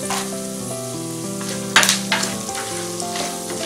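Coconut tossed into a frying poha chivda mixture with chana dal, sizzling steadily in hot oil while being stirred, with a brief louder crackle and scrape partway through.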